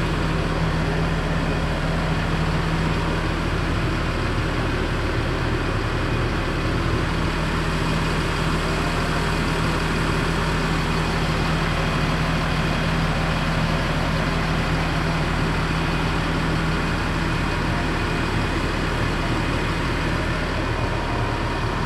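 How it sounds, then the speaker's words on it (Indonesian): The diesel engine of an ALS intercity bus idles steadily, a loud, continuous low rumble with a constant hum and no change in pace from start to finish. "Nah, ini sangat terawat sekali mesinnya ini."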